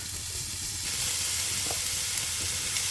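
Lean 5% fat beef mince is frying in a pan with onions, giving off a loud, steady sizzle and hiss that goes on without a break, with a faint scrape as it is stirred.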